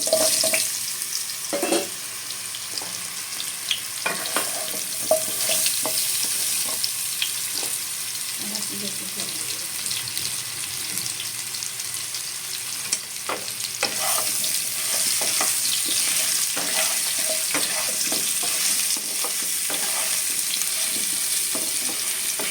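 Turmeric- and salt-coated banana pieces sizzle and fry in a wok, with steady frying noise and occasional stirring clatter throughout, fairly close and continuous.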